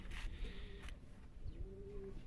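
Low, soft coos from resting pigeons in a coop, two drawn-out calls with a pause between, over faint background rustle and a brief higher chirp.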